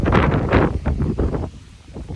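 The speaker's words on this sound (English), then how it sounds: "it's really windy, but this is a sign that I should go inside" Heavy, gusty wind buffets the microphone with loud low rumbling bursts, easing somewhat toward the end.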